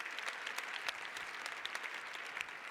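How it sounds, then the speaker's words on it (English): Steady applause from an audience at a mentoring celebration evening, a continuous patter of many hands clapping at moderate distance, without speech, across the whole stretch. "So give yourselves a round of applause."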